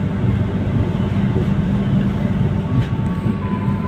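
KAI Kertajaya passenger train pulling out of Cepu station, heard from inside the carriage as a steady, loud low rumble with rolling rail noise and no speech.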